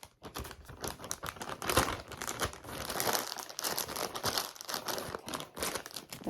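A sheet of wax paper is crumpled and crinkled at a crafting table, a steady run of crisp, papery crackles that rise and fall for several seconds, fairly quiet and close with no talking.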